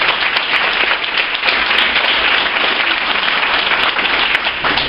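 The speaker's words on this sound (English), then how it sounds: "A round of applause right now." Audience at a Clay County chamber State of the County event gives public officials and public service workers a loud, steady round of applause that stays dense and even across several seconds.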